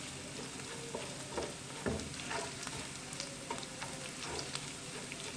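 Chicken pieces added to hot oil with garlic and ginger in a pan for achari chicken handi, a steady close sizzle and crackle with occasional stirring scrapes and pops.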